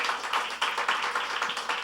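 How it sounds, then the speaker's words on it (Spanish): A church congregation claps steadily throughout a short stretch, a dense, even patter of applause with no voices over it. "Dale un aplauso a Dios por su palabra."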